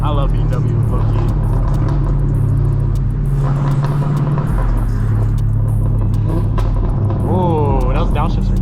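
A BMW M4 CSL engine rumbles loudly through downshifts during a POV drive, with rising and falling revs under a constant low drone.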